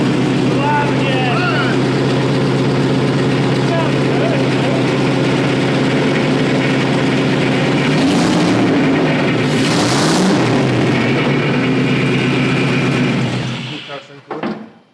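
Loud, raw engine running with no mufflers, a harsh close idle with rising revs partway through before it cuts off near the end, with voices faintly under the roar.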